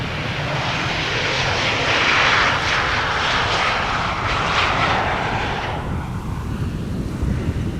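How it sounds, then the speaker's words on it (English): A KLM passenger airplane arriving from Birmingham lands at Amsterdam Schiphol Airport, its engines roaring loud and close with a broad rushing sound that swells and then begins to fade, with wind noise and no voices. "KLM flight 1044 first, arriving from Birmingham."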